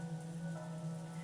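Rain falls steadily as a sound effect in the Umineko visual novel, a soft, even hiss with no talk over it, alongside a low constant hum.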